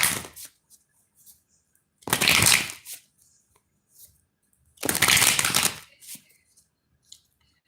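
Oracle cards being shuffled during a tarot reading, two loud, close bursts of riffling and sliding cards, each lasting about a second, with soft handling sounds in between.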